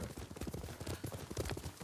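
A horse galloping in the video game Ghost of Tsushima, quick rhythmic hoofbeats thudding close and steady over faint ambient game sound, with no talking.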